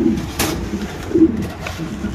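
Lahori pigeons cooing close by in a low, throaty rolling murmur that rises and falls in soft pulses, with a brief flutter or rustle partway through and no clear talking.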